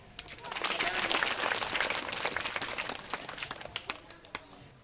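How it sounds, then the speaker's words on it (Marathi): An audience at a millet festival applauds successful farmers, a sustained crowd of overlapping claps that swells, then thins into scattered individual claps toward the end. "अशा या यशस्वी शेतकऱ्यांसाठी सर्वांनी एकदा जोरात टाळ्या वाजवायच्या आहे"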